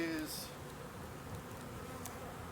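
Italian honeybees hum around a backyard hive in a steady, dense, low drone that holds evenly from start to finish, with a brief brighter buzz near the start as a bee passes close.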